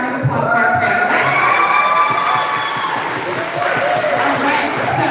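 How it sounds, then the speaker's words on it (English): An audience at a brunch event applauds its panelists with dense, sustained clapping that fills the room evenly, with some cheering mixed in. "let's get a round of applause for our panelists"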